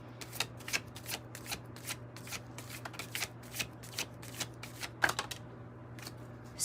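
Tarot cards are shuffled by hand in a quick run of crisp riffling bursts, close and fairly quiet, continuing steadily with no talk over them.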